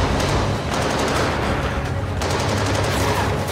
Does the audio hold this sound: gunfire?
yes